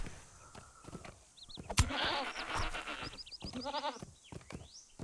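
Goats bleating in The Lord of the Rings Online, several short nasal bleats and wavering calls from close animals among footsteps and thuds, with no talk over them.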